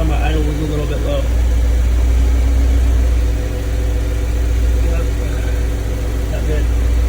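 A BMW E30 with an M42 engine idles slightly low after a gas leak, giving a steady, close mechanical drone with a constant low rumble and faint ticking, unbroken across the whole stretch.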